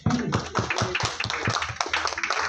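An audience at a personal branding training session gives the speaker a standing ovation, a burst of distinct claps of moderate loudness with some voices mixed in, irregular and fairly close.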